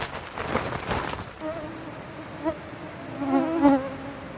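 A swarm of mosquitoes whines close around field plots, a thin buzzing that rises and fades as insects pass near, mixed with wind-like rustle and faint background sound.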